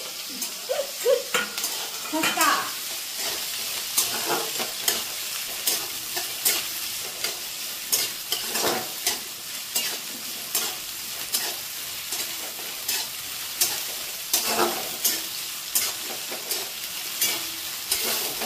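Green chilies sizzle and fry in a pan for chivda while a spoon stirs them in steady, repeated scrapes; the broadband crackle is continuous and close, with no talk.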